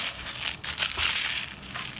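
Glass pieces crunch and grind as they are crushed by hand to make DIY crushed glass, giving a steady, gritty crackling with brief louder crunches, close up and without talk.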